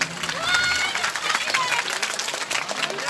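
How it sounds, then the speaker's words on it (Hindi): Crowd applause at a Hindu religious gathering, thunderous clapping from many hands swelling early and continuing steadily, with some voices mixed into the crowd noise. "एक साथ तालियों से गड़गड़ाहट के साथ।"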